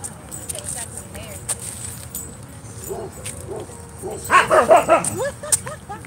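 Dogs at a dog park give a short burst of barks and yips near the end, moderately loud, after a stretch of quieter ambience with someone talking intermittently.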